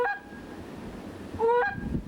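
Geese honk in short nasal calls, one burst at the start and a louder cluster of two or three honks near the end, fairly close over a rough outdoor background.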